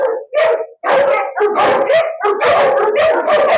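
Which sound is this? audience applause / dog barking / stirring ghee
dog barking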